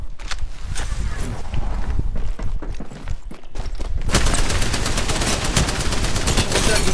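Rapid automatic gunfire fills a video game firefight, loud and nearly continuous, with dense bursts of shots that grow heavier and more sustained in the second half, alongside footstep-like clatter.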